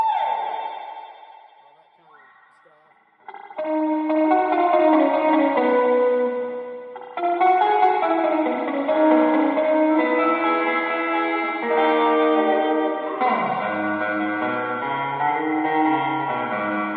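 An electric guitar rings out through a Source Audio True Spring reverb pedal, heavy and splashy, notes smearing into a wobbly echoing wash after a brief quiet start, playing continuously and loud.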